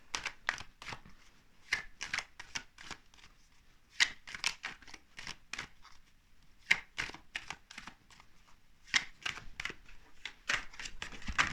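Tarot cards handled and drawn from a deck, with a quick run of crisp papery slaps and riffles, close and fairly quiet, and no talking.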